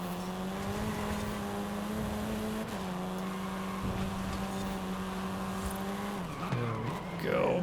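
A race car in a night city racing game at Guanajuato holds a steady high engine whine that drops sharply as it brakes hard, ending in a burst of tire squeal, with faint talk underneath.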